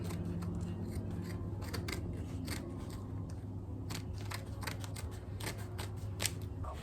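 Scissors snip and rub through material trimmed to length for a DIY sawhorse, a series of quiet close cuts over a steady low hum.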